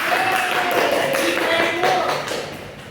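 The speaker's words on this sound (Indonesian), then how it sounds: "ayo kita berikan tepuk tangan" Third-grade pupils in a classroom clap for a classmate after her group-discussion presentation, a few seconds of loose, scattered claps that fade toward the end, with voices mixed in.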